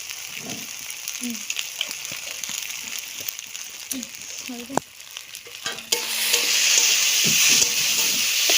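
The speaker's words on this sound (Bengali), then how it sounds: "এই ক্যাংড়া ভালো ভাজা হয়েছে" Crab frying in oil for a spicy masala crab dish: a continuous crackling sizzle with scraping stirs and soft clatter, swelling into a louder, steadier hiss for the last few seconds, with faint voices in the background.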